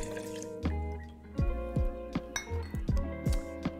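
Glass clinks and drips sound while Dolin Dry Vermouth is measured for a cocktail, with several sharp, ringing taps and small splashes heard close with no talking.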